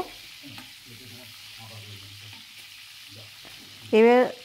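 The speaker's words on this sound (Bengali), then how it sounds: "চিংড়ি মাছগুলোকে খুব হালকা করেই ভেজে নেব" Prawns frying lightly in oil in a home kitchen, with a soft steady sizzle, faint clinks of stirring throughout and a brief louder scrape near the end.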